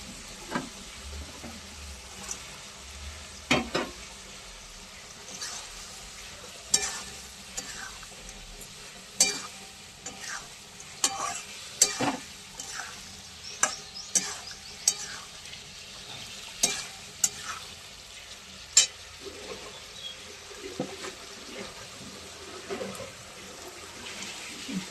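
Fish fries and sizzles in a pan, a steady hiss under repeated clinks and scrapes of a utensil stirring, close by and moderately loud over nearly half a minute.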